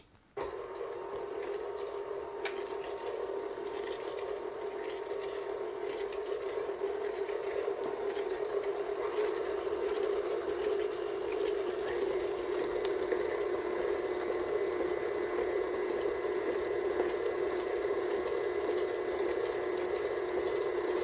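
An electric mixer beating eggs into butter and sugar for chocolate tarragon cake, a steady continuous motor whir holding even and unbroken throughout, close and alone with no voices.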